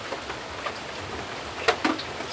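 Heavy rain falls as a dense, steady hiss, with a couple of sharper drips or splats near the end and no voices.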